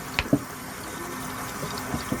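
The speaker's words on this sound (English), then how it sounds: "I'm going to dump this in the colander with the hot water running." Hot tap water running into a colander in a kitchen sink, a continuous splashing rush with a couple of clanks near the start and a soft knock near the end, no voices.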